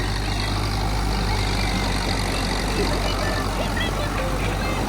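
A tractor engine runs steadily throughout on a rice farm during paddy sowing, a continuous loud low rumble with no break, and talk is faintly mixed in.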